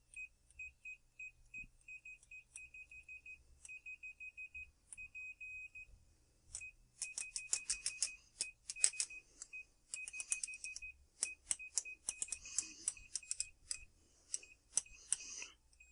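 Continuity beeps from a Fluke 177 multimeter: at first a steady string of short, evenly spaced beeps, then a dense burst of rapid, irregular chirps and clicks as the probes touch, close and clear.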